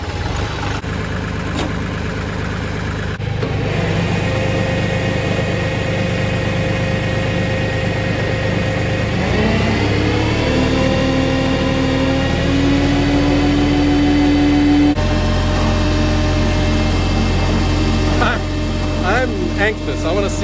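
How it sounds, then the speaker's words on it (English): A tractor engine runs at PTO speed to drive a Japa 315 firewood processor, a loud steady drone that rises in pitch partway through as the machinery engages, with no talking. "So I'm gonna go ahead and fire up the tractor."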